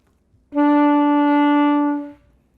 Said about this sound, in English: So B sounds like this.